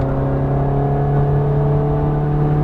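A Ferrari F430 Scuderia on a race track at Las Vegas Motor Speedway accelerates, its engine giving a loud, steady, high-pitched wail that climbs gradually over a few seconds.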